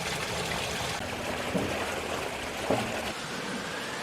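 Water rushing steadily through a brimming farm irrigation canal during flooding, a constant broadband wash with a couple of faint knocks, heard up close with no talk.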